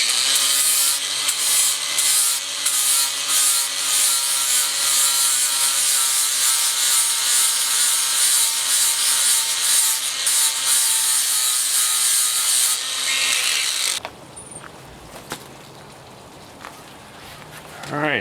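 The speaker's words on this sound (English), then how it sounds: "Just using a flapper disc." Flap disc on an angle grinder stripping the galvanized coating off steel bolts: a loud, continuous, harsh grinding whine for about fourteen seconds that cuts off abruptly, leaving a quiet workshop with a few faint knocks.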